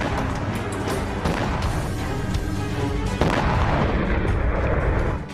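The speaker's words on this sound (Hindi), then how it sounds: "भीषण हमले में एक के बाद एक करीब 15 धमाके होते दिखाई दे रहे हैं।" A dense barrage of about 15 booming bomb explosions in a heavy attack, one after another, loud and rumbling with continuous blasts overlapping throughout.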